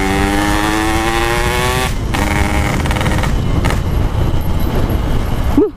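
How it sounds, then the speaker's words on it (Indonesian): A motorcycle with a loud aftermarket exhaust revs up close by as its engine warms, rising to a steady high drone that breaks off into rough, uneven idling and pops. "Kita manasin mesin dulu"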